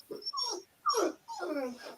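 Dog whimpering in short, high-pitched whines, three or four close whimpers in quick succession with small gaps between them.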